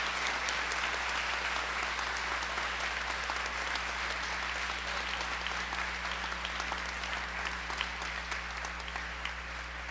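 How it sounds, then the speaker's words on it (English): Students are honored with steady, continuous applause at a high school academic awards night, a broad crowd clapping evenly and fairly far off, with a low hum beneath. "Let's give these students a final round of applause"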